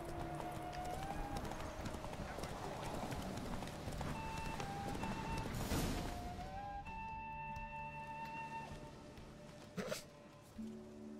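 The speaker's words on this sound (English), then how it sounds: "Perfect horse riding." Horse hooves clip-clop in a steady running rhythm while riding across terrain in The Witcher 3, close and continuous under game ambience, with a sharper thud near the end.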